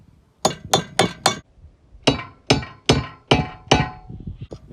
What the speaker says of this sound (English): The noise will change in the table and all the hammering when you hit the bottom.